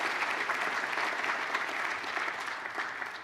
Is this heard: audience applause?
yes